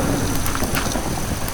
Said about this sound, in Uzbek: Yomg'ir tagida qolib ketdim.